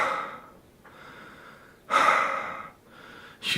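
Heavy mouth breathing sounds close and loud, with slow, rasping inhales and exhales coming in uneven waves and short pauses between.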